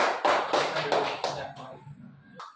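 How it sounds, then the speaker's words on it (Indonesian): A class of students claps their hands for a presenting group, a short burst of several rhythmic surges of clapping that fades out within a couple of seconds, with a brief sound at the end. "Sekali lagi kasih tepuk tangan dulu"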